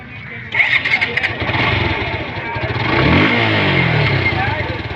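Old used motorcycle being kick- or button-started at an outdoor second-hand bike market in Bangladesh; the engine catches and runs with a loud, rough idle and a rising rev, with people talking nearby.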